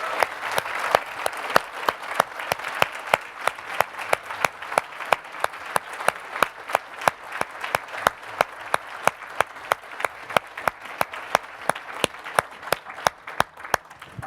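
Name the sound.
conference crowd applauding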